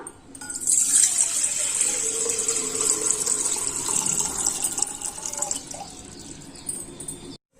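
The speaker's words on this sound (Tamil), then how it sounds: "இப்ப நான் தேவையான அளவு தண்ணி ஊத்திட்டேன்" Water pours steadily into a cooking pot for sakkarai pongal in a continuous gushing stream, close and fairly loud, easing off near the end.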